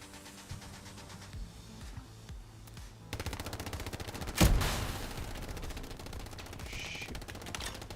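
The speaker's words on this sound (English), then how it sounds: "What a bad shot that was." Gunfire in the video game Hell Let Loose: rapid repeated shots rattle on throughout, with one loud, sharp crack near the middle followed by continuing bursts.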